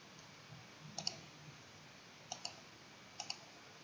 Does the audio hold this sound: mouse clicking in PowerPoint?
yes